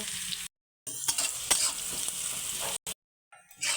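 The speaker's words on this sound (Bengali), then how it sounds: "দিয়ে একটু ভালো করে লাল লাল করে ভেজে নেব।" Onions frying in oil with ginger-garlic paste in a home kitchen pan, a steady close sizzle with stirring scrapes, broken by two short silent gaps.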